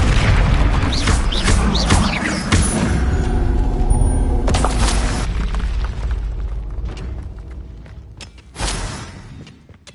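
Fiery spell blasts from Hogwarts Legacy boom in loud, close bursts, the biggest near the middle and another near the end, over a dense, rumbling game soundscape.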